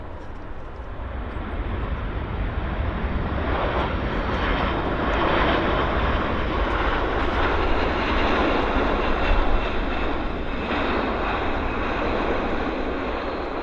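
Airliner jet engines at Vancouver Airport roar in a broad, steady wash that holds loud and continuous throughout, a distant rumble with no voices over it.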